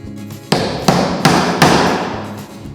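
Chunks are snapped off a block of beeswax while a cutting board finish is being made, giving four sharp, loud cracking thuds spaced about a third of a second apart, close up, with no talk.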